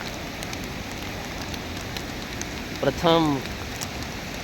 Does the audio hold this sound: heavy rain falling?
yes